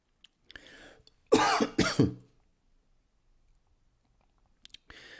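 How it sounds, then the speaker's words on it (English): A person gives a few dry coughs. Two harsh, loud bursts stand out, with softer throat sounds before and after and quiet gaps between. "I still have this stupid dry cough"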